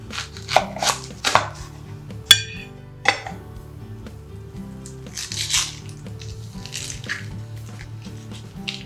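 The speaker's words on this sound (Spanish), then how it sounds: "cortamos las cebollas en juliana" Onions being cut into julienne strips with a knife on a board, a series of close, crisp chops in an irregular rhythm with short pauses and light squishy cuts between.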